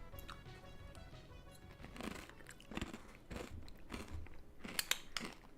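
Granola with coconut yogurt, chia seeds and banana crunched in the mouth close up, giving repeated bites and chewing crunches in irregular bursts, quiet but crisp, with no talking.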